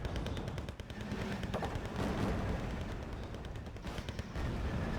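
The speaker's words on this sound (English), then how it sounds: "The T-72 is getting some nice shots off." Tank cannons fire in the Wargame Red Dragon battle, including a T-72, as a dense, continuous barrage of overlapping booms and rattling shots at moderate loudness.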